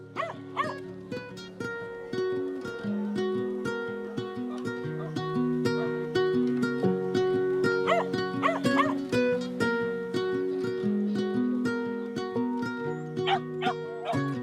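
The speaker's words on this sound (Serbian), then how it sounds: "organizuju izložbe pasa mešanaca udomljenih sa ulice" Rescued street mixed-breed dogs yip and bark at an outdoor dog show, short sharp calls scattered under loud music that runs throughout.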